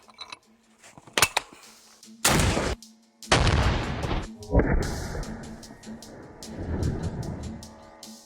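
A Soviet WW2 14.5mm anti-tank rifle fires B-32 rounds at armored plates outdoors, giving two huge, close, booming blasts with long rumbling decay, followed by clattering and a loud sustained roar.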